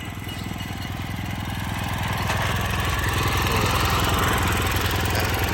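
A walking tractor's small single-cylinder engine chugs steadily and close by, its rapid thumping rhythm continuous and growing slightly louder partway through.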